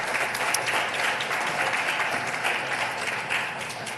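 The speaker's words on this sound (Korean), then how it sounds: "그럼 다시 우리 인사하실 때 우리 뜨거운 박수로 우리 환영해 주시면 감사하겠습니다." A church congregation at a Sunday worship service gives warm, continuous clapping that fills the sanctuary at a steady level, with no speech over it.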